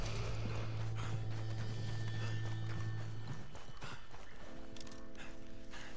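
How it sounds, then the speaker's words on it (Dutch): Horse hooves clip-clopping in the Red Dead Redemption video game, a steady rhythmic trot under a low hum and mechanical tones, with no talk. "Paardje, kom hier. Paardje, doe rustig."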